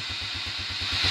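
A small carbureted engine catches and putters with a quick, even thump of low pulses, close by and brief, with no voices.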